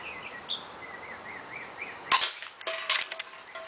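A Walther PPS airsoft pistol fires, giving a sharp close snap, then a brief cluster of clicky follow-up shots over quiet outdoor background with birdsong.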